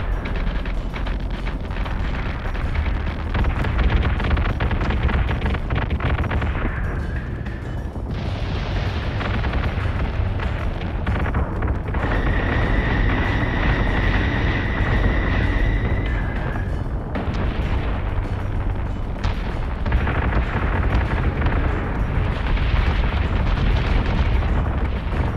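Heavy cannon fire from capital ships in the space combat game Battlestar Galactica Deadlock, a dense, continuous rumble of booms with whining tones rising and dropping through the barrage, loud and sustained.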